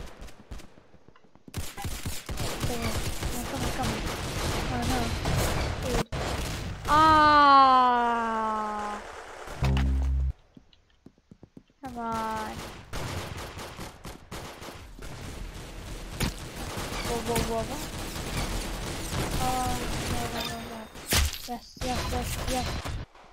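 Gunfire from a weapon in the Roblox game Arsenal, with repeated broadband bursts of shots crackling through much of the scene amid game sounds, briefly interrupted by a brief siren-like tonal sweep.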